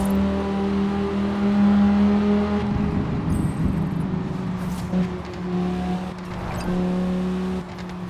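A synthetic-sounding car engine in Forza Horizon 4, the Cyberpunk 2077 Quadra, hums and revs at a steady pitch, dipping and rising a few times, loud and close with no talking.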